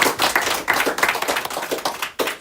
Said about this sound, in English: Just a brief round of applause for these guys.